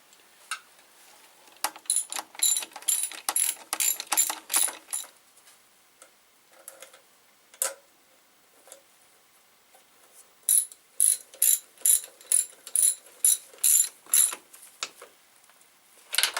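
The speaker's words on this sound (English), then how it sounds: "Click! All torque to Yamaha specifications." Torque wrench ratcheting while servicing a Yamaha TDM850 motorcycle in a home garage, with rapid bursts of sharp metallic clicks, close and crisp, separated by short pauses and a longer quiet gap midway.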